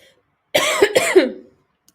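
A single close, loud bout of coughing: two quick harsh hacks from an adult woman, isolated in near silence.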